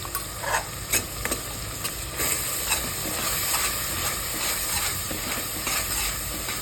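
Mutton coated with turmeric is stirred and sautéed in a pan for mutton rasa, a steady close frying hiss broken by repeated scraping and tapping of a spoon, louder in bursts early on, with no talk.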